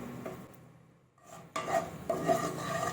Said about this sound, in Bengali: এবার একটু ভালোভাবে নাড়াবো।